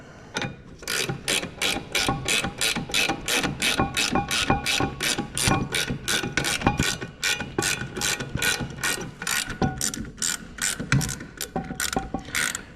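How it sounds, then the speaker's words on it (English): Ratchet threading a bolt into a Brembo brake caliper on a Z31 300ZX big brake kit, rapid steady clicking strokes repeating close up for several seconds. "I know it sounds like I'm, tightening it. I'm just threading it."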